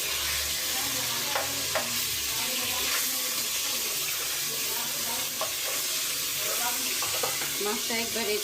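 Fish slid all at once into hot oil on a home stove, a loud dense crackling sizzle that fills the whole stretch, steady and close, with faint clatter underneath.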